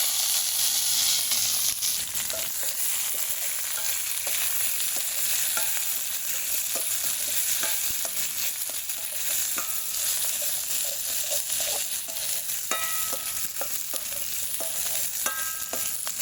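Garlic, onion, chili and curry leaves sautéing in a pan for a Jaffna-style crab curry, giving a steady loud sizzle with scattered stirring scrapes throughout, no voices.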